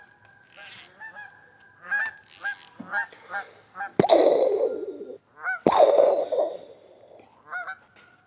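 Geese honk loudly and repeatedly, harsh nasal calls coming in bursts, with two especially loud, close blasts near the middle.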